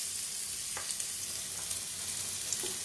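Finely chopped onion frying in a little oil in a pan, a steady close hiss of sizzling with faint occasional clicks, no voices.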